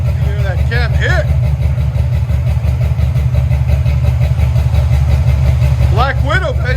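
A cammed 6.2L V8 in a 1972 Chevy Chevelle SS with long tube headers and dual exhaust idles close by with a steady, choppy lope, and voices sound over it.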